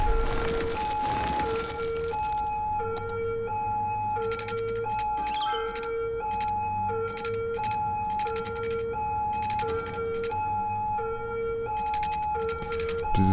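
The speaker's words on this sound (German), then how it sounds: "Diese Sirene geht mir gerade tierisch auf den Sack." Two-tone emergency vehicle siren from the city-building game Cities Skylines, wailing steadily and loudly throughout with a repeating alternating pattern, alone without talk.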